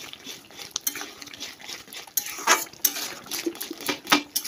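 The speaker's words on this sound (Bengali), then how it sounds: "দিয়ে একটু নাড়াচাড়া করি" Moong dal with salt and turmeric being stirred in a cooking pot, irregular metallic clinks and scrapes of a spoon against the pot, close and fairly loud with small pauses between strokes.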